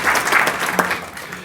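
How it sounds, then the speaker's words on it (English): Audience applause at a building-products company's 2019 annual general meeting, a short burst of indoor clapping from a seated crowd, fairly loud and fading quickly. "she deserves really a clap"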